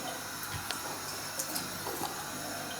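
A tap running steadily nearby to wet hands while making sourdough at home, a continuous hiss of water with a few soft splashes and no talking.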